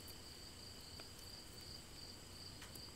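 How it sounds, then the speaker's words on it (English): Crickets chirp steadily and faintly in the background of a quiet room, a thin continuous trill with no talking. "Can you hear the crickets?"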